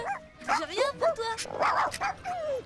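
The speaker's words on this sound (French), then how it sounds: "T'es un bon chien." A dog named Whisky whimpers and yips in Heart of Darkness, high wavering whines and short yelps repeating close up over a few seconds, with a voice talking alongside.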